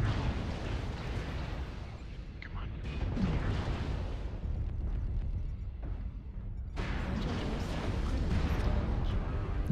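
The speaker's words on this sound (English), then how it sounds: "Incoming missile." Missile blasts in a shooter video game, heavy rumbling explosions that swell and cut off abruptly, a dense roar filling the mix with voices talking faintly beneath.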